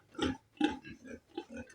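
A sow on a pig farm gives a run of short grunting calls, four or five rough bursts in quick succession, close and moderately loud, with no talk over them.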